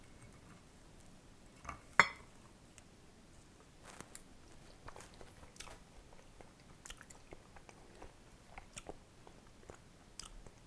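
Someone chews a soft, chewy Reese's chocolate chip cookie, quiet moist mouth sounds and small bites spread over several seconds, with one sharper clack near the start.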